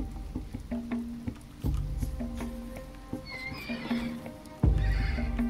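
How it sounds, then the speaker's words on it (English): A wild horse in the video game Dawn of Man neighs and whinnies repeatedly, with hoof clops and thuds scattered among the calls, loud and near with a few louder impacts toward the end. "There's a wild horse."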